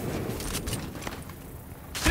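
Bursts of automatic gunfire in the shooter game The Division, sharp repeated shots in a tense firefight, with a loud burst at the end and no talking.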